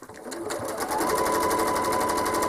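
A home sewing machine runs steadily while stitching curved lines on a quilt, a close, rapid, even mechanical chatter that speeds up within the first second and holds.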